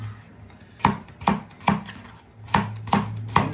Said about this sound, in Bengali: তো আমি শসাটা কেটে নিব।